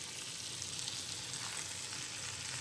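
Shallots fry in butter in an electric skillet on medium heat, giving a steady, close, even sizzle that holds at one level throughout with no talking.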